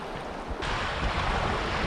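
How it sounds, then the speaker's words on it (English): River rapids churning in the northern wilderness, a loud, continuous roar of rushing water that swells slightly partway through, with no voices. "Crazy volume in these rapids"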